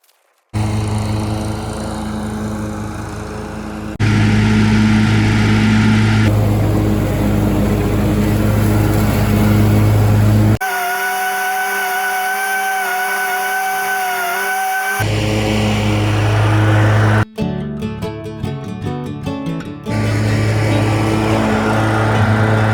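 Lawn mower cutting tall, overgrown grass on a farm with new blades, a loud continuous engine drone that shifts pitch and tone as the load changes, with a brief clattering patch, close and with no talking.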